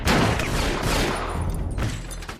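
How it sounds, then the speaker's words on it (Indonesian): Gunfire from the action film A Man Apart, shots coming from a house attic, a dense loud burst of rapid overlapping shots and booms filling the whole moment without speech. "Tiba-tiba datang tembakan dari atas loteng rumah."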